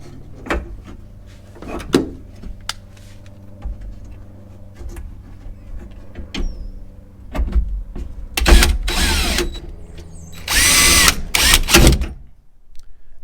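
A power tool drives T30 screws on a Toyota Tundra bed rack install, heard as short whirring bursts separated by clicks and handling knocks, with louder, longer runs near the end, close and without talk.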